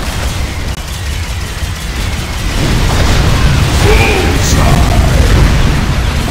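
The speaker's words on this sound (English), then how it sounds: "Enemy core destroyed." An enemy core blows up in Unreal Tournament 3 Warfare mode on the Downtown map, a heavy booming blast that swells and rumbles on loudly, with game effects and a faint announcer-style voice mixed in.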